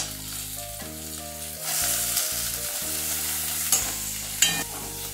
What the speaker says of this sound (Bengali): টমেটো কুচিগুলো নেড়ে আমি এবার আলু আর ফুলকপি টুকরোগুলো দিয়ে দিচ্ছি।